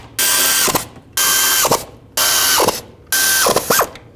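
A ratchet wrench snugs bolts on the cam backing plate of a 1999-2003 Toyota Solara during a timing belt job, four loud close bursts of rapid pawl clicking, each ending with a short squeak as the bolt seats.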